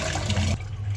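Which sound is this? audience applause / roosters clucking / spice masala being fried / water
water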